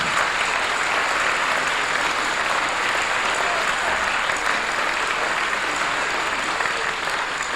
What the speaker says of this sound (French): N'applaudissez pas trop parce que vous n'avez pas encore vu le spectacle